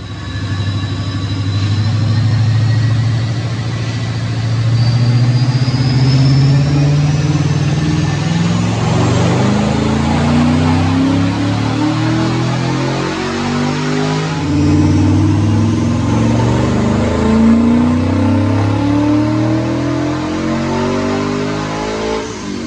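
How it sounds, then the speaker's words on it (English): A 2009 Mustang 3V V8 with a Paxton supercharger revs hard through dyno pulls, its loud engine note climbing steadily in pitch under wide-open throttle, easing off, then sweeping up again in a second pull. "let's get to these dyno pulls"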